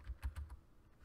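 Four quick keystrokes on a computer keyboard while code is entered, close and quiet with light thumps, followed by a short lull and no talking.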